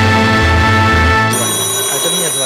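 A telephone rings indoors with a loud, repeating bell-like trill for about a second, then gives way to a steadier high electronic tone.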